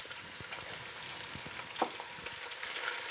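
Paprika-laden goulash frying in a pan and being stirred, a steady close sizzle with scattered scraping and clinking from the spoon, one louder knock partway through.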